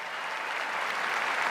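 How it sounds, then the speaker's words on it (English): At Roland Garros, the 2024 French Open men's final between Carlos Alcaraz and Alexander Zverev, a stadium tennis crowd applauds in an even, sustained roar of clapping, heard from a distance with no speech. "thanking the crowd for their applause"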